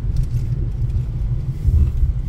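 Car driving along a residential street in Kazanlak, Bulgaria, a steady low interior rumble of engine and road noise, close and continuous with no talk.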